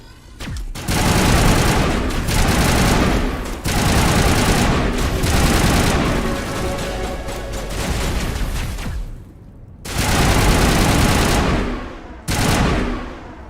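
Sustained bursts of automatic gunfire from combat in Mass Effect, loud and dense, with several long volleys broken by brief pauses.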